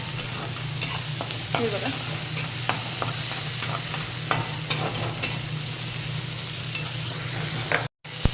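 Onion and tomato with turmeric sauté in a pan for a cabbage dish, a constant low sizzle broken by repeated scraping and clinks of the spoon stirring, with a short word spoken once and a brief dropout near the end.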